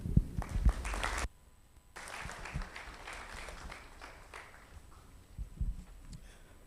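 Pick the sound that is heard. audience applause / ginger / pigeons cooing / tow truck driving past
audience applause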